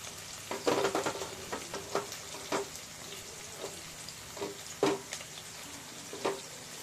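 Ginger garlic paste sizzles in hot oil with softened onion and curry leaves for an ivy gourd curry, steady frying crackle broken by several sharp spatula scrapes and stirs, close and moderately loud.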